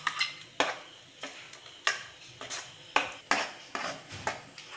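A spoon scrapes rhythmically around a pan as pineapple pulp is mixed into thickened rava kesari, giving about eight evenly spaced strokes with light metallic clinks and a faint sizzle underneath.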